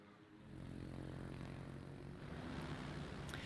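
A carrier aircraft in a naval warfare game drones past with a steady propeller-engine hum that swells slightly, heard close and alone over a low rumble.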